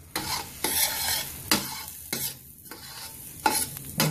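Marshmallows are stirred into melting butter in a pot for Rice Krispies treats, a spoon scraping and sloshing in distinct bursts repeating every second or so, close and fairly loud with no talking.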